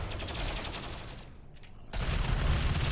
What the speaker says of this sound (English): once those heavy cannons start firing in, they do so much damage. Chain guns are going off.